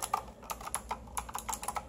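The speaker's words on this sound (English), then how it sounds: "by pressing the keys that I just pressed" Keys clatter on a Dotech typewriter-style mechanical gaming keyboard, a steady run of crisp clicky presses at moderate pace, close and fairly quiet, with no voices.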